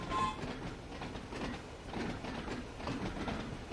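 A train on the Isle of Wight route in Train Sim World 2 runs steadily through snow, with a continuous rumbling roll and rhythmic clickety-clack from the wheels and no talking.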